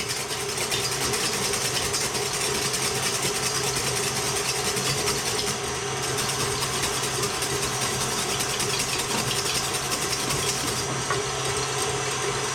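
Sponge batter for a joconde cake being whisked, likely by an electric mixer, gives a steady, continuous whirring mechanical drone that stays even and moderately loud throughout, with no talking.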